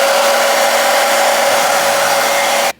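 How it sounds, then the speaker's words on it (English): A blow dryer drying a water wave wig runs steadily at close range with a constant loud whoosh and whine, then cuts off abruptly at the end. "I'm going to go in with my blow dryer and blow dry this."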